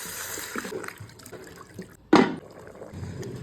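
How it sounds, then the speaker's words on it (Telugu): Water splashes into a pot of country chicken curry in one short, loud burst, with quieter kitchen clatter before and after. "ఇప్పుడు సరిపడా నీళ్లు పోసుకుని బాగా ఉడకనిచ్చుకుందాం"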